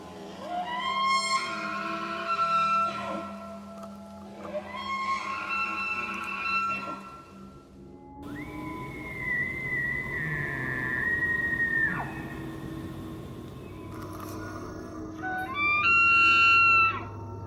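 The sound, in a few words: elk bugling calls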